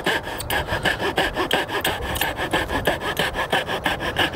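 Coping saw cuts through an MDF baseboard in quick, even back-and-forth strokes, a close rasping rhythm of roughly four strokes per second that runs steadily throughout.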